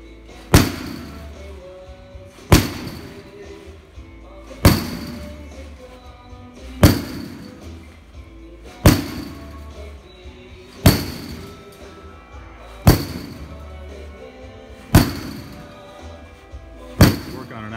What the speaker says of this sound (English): hit the mat with our bat perfectly flat again